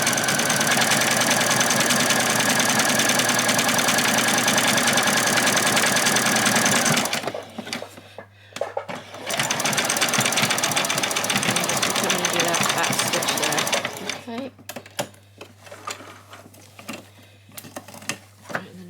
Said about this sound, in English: we're going to do a zigzag stitch all the way down